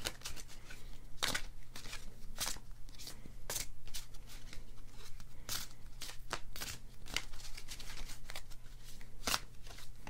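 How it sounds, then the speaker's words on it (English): A deck of tarot cards is shuffled by hand during a reading, giving repeated crisp riffling bursts at an uneven rhythm, close and quiet, with no voices. "I do this by shuffling the cards"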